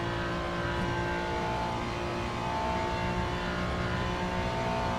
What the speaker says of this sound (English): this is the Ferrari 296 GT3.